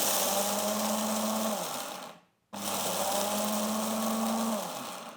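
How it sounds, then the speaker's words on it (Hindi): An electric spice-grinding jar crushes ingredients for Multani sohan halwa in two loud, steady whirring runs. Each run winds down, followed by a brief silent gap, then the motor restarts and winds down again. "अब इसे मसाला पीसने वाले जार में डाल के तो मैं सारे को पीस लूँगी।"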